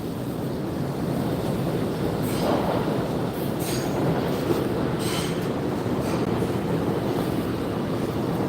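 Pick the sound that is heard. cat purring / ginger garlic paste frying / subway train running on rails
subway train running on rails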